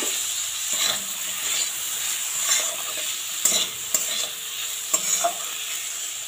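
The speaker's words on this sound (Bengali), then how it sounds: "এবার এর মধ্যে মটরশুঁটি আর ফুলকপিটা দিয়ে দেবো।" Peas and cauliflower tumble into a hot pan of ginger-laced toor dal base and are stirred, giving a steady close sizzle and hiss with repeated spoon scrapes and clinks against the metal kadai.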